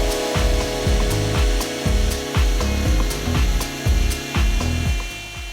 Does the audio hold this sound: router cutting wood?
yes